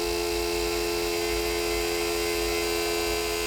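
A Foxwell JT200 fuel injector tester runs at 600 RPM, giving a steady electric hum with a low, regular pulsing underneath, continuous and close, with no speech.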